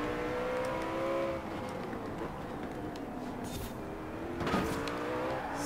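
A Koenigsegg One in the video game Forza Horizon 4 hums along with a steady engine tone that shifts in pitch, and a brief tire squeal and surge near the end.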